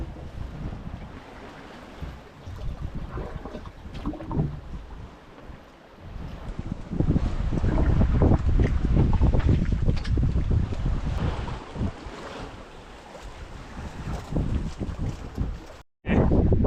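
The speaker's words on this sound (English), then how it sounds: "we're losing the wind a teeny bit now, but now it's gusting again" Gusty wind buffets the microphone aboard a sailing sailboat, a rough roar that swells and fades with the gusts, with water and waves washing beneath it.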